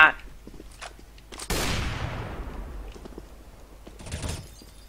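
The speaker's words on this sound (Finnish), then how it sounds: "Jostain täältä kyllä kuuluu laukaus." A single loud video-game gunshot cracks and echoes as it fades, with a second softer burst near the end and faint talk before it.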